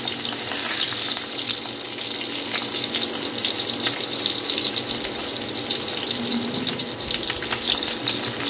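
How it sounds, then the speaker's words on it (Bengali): Fresh fish shallow-frying in a pan, a loud, dense, steady sizzle and crackle heard up close throughout, with no voices. "হালকা লাল করে ভেজে নেব"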